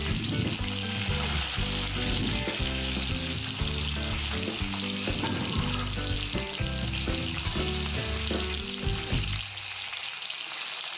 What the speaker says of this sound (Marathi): आणि जिरे टाकून घ्यायचे त्याच्यामध्ये भरलेली वांगी ठेवायची आपल्याला